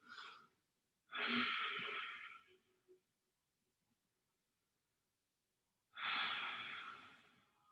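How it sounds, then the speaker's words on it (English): Slow, deep breaths are taken during a stretching exercise in child's pose in a mobility class: two long, close, airy exhalations separated by a quiet pause, with a softer breath at the start. "just take a couple of deep breaths here"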